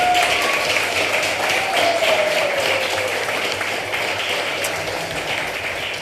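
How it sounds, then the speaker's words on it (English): Crowd applause and cheering at an outdoor Lā Kūʻokoʻa celebration in Lāhainā, Maui, a dense continuous wash of clapping, with a faint voice or whistle briefly rising above it. "Give her a round of applause for Noelani Ahia."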